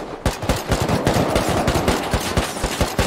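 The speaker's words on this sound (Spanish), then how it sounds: "Estoy disparando al azar, Veje." Rapid automatic gunfire from a video game, a dense, loud, continuous stream of shots rattling without pause for a few seconds.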